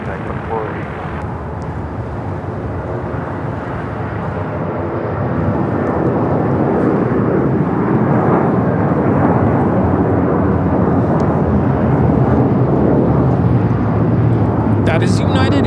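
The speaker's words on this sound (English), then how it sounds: "That is United Airlines 2096 taking off to Newark on the 757-300." A United Airlines Boeing 757-300 takes off at LAX bound for Newark, its engine roar building after a few seconds into a loud, sustained rumble that fills the rest of the recording.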